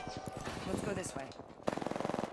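Rapid automatic gunfire in Apex Legends: a quick string of about ten evenly spaced shots near the end, after a stretch where a voice talks.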